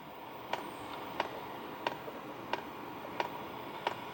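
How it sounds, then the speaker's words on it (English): The fuel pump of an HCALORY ToolBox2 diesel heater ticks six times at an even pace, about one tick every two-thirds of a second, each click sharp but faint over a soft steady background hiss. "you'll hear the fuel pump ticking"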